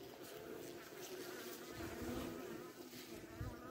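Honey bees being gathered by hand from a hive buzz as a soft, continuous hum of many insects, fairly close and steady, with faint handling noises and no clear speech.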